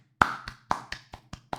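Seven hand claps, sharp and fairly close, come at an uneven pace in a quiet room, with no talking over them.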